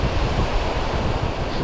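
Strong wind gusts across a winter shore in Northumberland, buffeting loudly and continuously with a rumbling roar, the surf washing beneath it.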